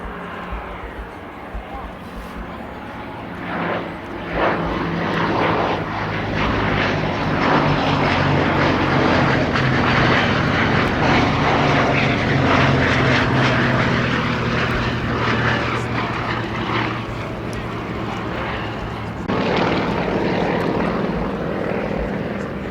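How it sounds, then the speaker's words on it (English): Formation of propeller aircraft led by a black-painted Westland Lysander from the Shuttleworth Collection passing at the Duxford air show, a loud sustained engine drone and airscrew roar that builds and holds for over twenty seconds, with a voice talking over it. "the black-painted Lysander leading this formation from the Shuttleworth collection"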